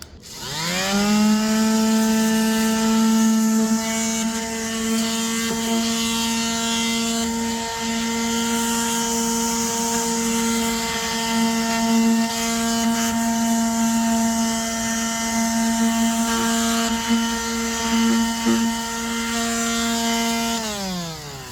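A power sander whines continuously at a steady pitch, spinning up at the start and winding down at the end, with faint rubbing as it knocks down the edges of a wooden door.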